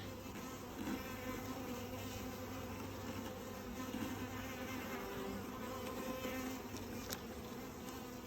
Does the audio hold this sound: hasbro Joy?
no